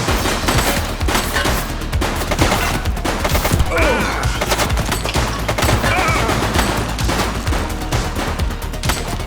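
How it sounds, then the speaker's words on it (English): Dense, rapid gunfire from The Precinct, a police video game, in a helicopter mission: loud overlapping bursts and single shots keep going without a break for the whole stretch, with heavy low thuds underneath. "Shots fired!"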